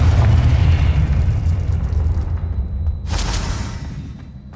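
Confringo fire-blast spell detonating in Hogwarts Legacy, a heavy, close booming explosion that rumbles and fades, followed by a bright crackling burst near the end.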